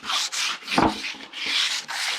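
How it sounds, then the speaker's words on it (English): Sandpaper rubbed back and forth along a varnished wooden stick to smooth it before a second coat, several quick rasping strokes close up, alone without talking. "sanding back again"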